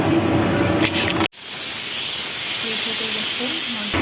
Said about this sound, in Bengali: আমি করলা ভাজিটা বসিয়ে দিলাম।